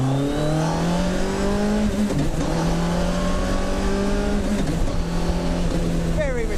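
A car powered by a first-generation Hayabusa engine accelerates hard, its revs climbing and dropping with each gear change in a loud, close, continuous engine howl.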